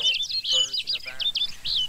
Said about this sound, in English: Birds in the back.